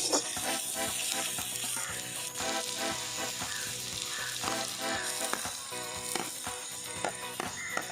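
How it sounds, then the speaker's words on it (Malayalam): Crushed garlic and ginger sautéing in a pan for a Kuttanadan duck egg roast, a continuous crackling sizzle with dense popping and occasional stirring scrapes, close and without speech. "ഒരു കുടം വെളുത്തുള്ളിയും ഒരു കഷ്ണം ഇഞ്ചിയും ചതച്ചുകൂടെ അതിൻ്റെ അകത്തോട്ട് ഇട്ട് കൊടുത്ത്"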